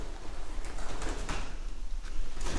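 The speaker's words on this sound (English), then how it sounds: "Guys, yeah, there's pigeons everywhere!" Pigeons cooing indoors in an abandoned hospital mansion, soft repeated low coos under a steady noisy rumble, with scattered faint knocks.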